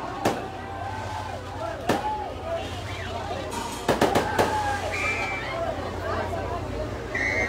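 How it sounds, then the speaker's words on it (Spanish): Fireworks display opening a patron saint festival for Our Lady of Carmen, with sharp bangs and crackling bursts over a steady crowd murmur, some loud close pops and distant rumbling through the sequence. "Ahí está, señores, la exhibición de fuegos artificiales, dándole inicio a esta fiesta patronales"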